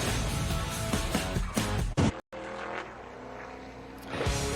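NASCAR Xfinity Series race cars roar around the Richmond track during qualifying for the 2022 ToyotaCare 250, engines loud and close with a brief dropout, then distant passes and rising engine notes.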